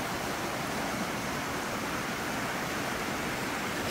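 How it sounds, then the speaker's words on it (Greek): A river near the village of Vovousa in Zagori flows with a steady, unbroken broadband rush of water, constant and fairly distant, with no voices. "ποτάμι"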